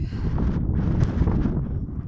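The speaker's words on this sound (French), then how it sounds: "là il y a un vent de dingue." Steady strong wind buffets the microphone outdoors in a low, rumbling rush with a few gusty swells.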